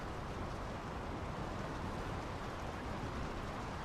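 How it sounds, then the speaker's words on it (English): Steady rain in the video game Draugen, a dense continuous hiss of downpour filling the whole stretch at an even level, with no voices over it. "The rain's picking up. We should get indoors."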